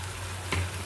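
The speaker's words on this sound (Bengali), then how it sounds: "তো আমি যেই মাংসটা ভেজে রেখেছিলাম হালকা করে, সেই মাংসটা আমি দিয়ে দেবো।" Lightly fried chicken pieces drop into hot masala that has released its oil, giving a brief close burst of sizzle over a steady frying hiss.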